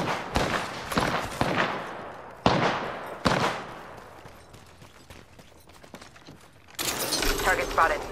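Rapid bursts of gunfire from Apex Legends, several loud volleys in quick succession with decaying echoes, a quieter stretch of scattered shots, then dense automatic fire near the end.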